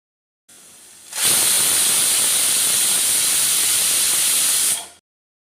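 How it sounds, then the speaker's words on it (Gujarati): A pressure cooker cooking stuffed brinjal lets out a single long, loud hissing whistle, rising sharply after a soft start, holding steady for several seconds, then cutting off. "મીડિયમ ફ્લેમ પર આને એક વિસલ થવા દઈશું"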